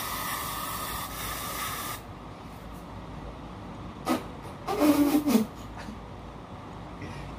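A hair spray can hisses in a steady continuous burst for about two seconds, followed by quieter room sounds and a few brief rustles and knocks.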